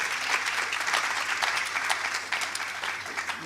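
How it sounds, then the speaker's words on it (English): A conference audience at a trauma meeting claps steadily for an introduced surgeon, dense sustained applause filling the whole stretch with no pauses. "Please give a huge round of applause to Dr."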